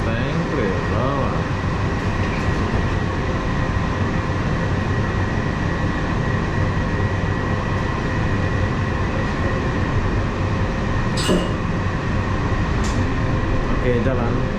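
An LRT train pulling out of a station in Kuala Lumpur, a steady rolling hum and low rumble filling the car throughout, with a couple of brief high squeals near the end and a voice speaking briefly.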